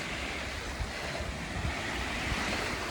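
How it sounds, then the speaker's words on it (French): Ocean waves wash steadily along a natural shoreline, a continuous broadband surf roar with faint wind, close and fairly loud, with no talking. "Ce bruit de vagues, d'eau."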